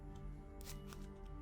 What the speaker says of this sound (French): Donc là, on va tirer à peu près 6 cartes.